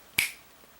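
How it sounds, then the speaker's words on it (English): One sharp, crisp finger snap sounds close up in an otherwise quiet room. "When I snap my fingers"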